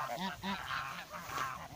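Domestic geese honk in a village, a steady run of overlapping nasal calls, fairly close, from a flock heading home, with no talk.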